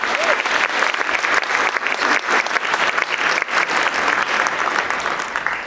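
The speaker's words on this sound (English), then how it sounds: "let's applaud after that. Let's applaud." Sustained audience applause fills a school honor band concert hall, dense steady clapping from a large crowd held at an even level throughout with no break.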